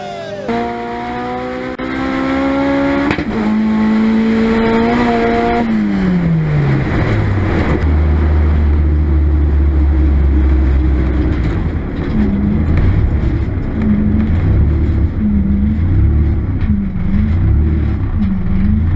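A Ford Mustang 5.0 revs hard into a third gear burnout, its engine note climbing then dropping into a loud, sustained roar with rising tire squeal and recurring rasps of wheelspin, close and continuous throughout.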